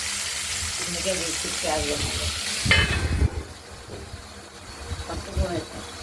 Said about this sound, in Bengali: মাছগুলো কড়াইয়ের ঢাকনাটি খুলে ভাজা হয়েছে, আর একটু একদিকটা ভাজা হয়ে গেছে